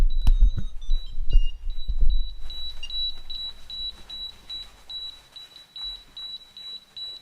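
A steady string of short high electronic beeps from an airbag vest sensor repeats rhythmically, preceded by a few thumping low knocks and rustling, close by with no talking.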